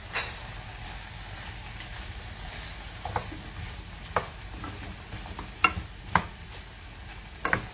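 Beef with green beans, carrots and asparagus stir-fries in a pan, giving a soft continuous sizzle with occasional sharp clicks and taps of a utensil against the pan.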